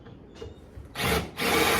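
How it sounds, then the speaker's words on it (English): A power drill bores the cap off a rivet in a boat floor, a short buzzing whir that starts abruptly, stops briefly and resumes, close and loud after a quiet moment. "you just take a drill, and it just has to be a little bit bigger than the stem part of the rivet"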